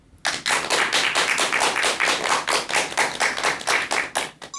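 An audience at a lecture applauds, a dense, steady clapping that starts abruptly and carries on loud and close for several seconds with no talking over it.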